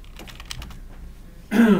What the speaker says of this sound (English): Just Ken, what would you say your approximate words per minute typing is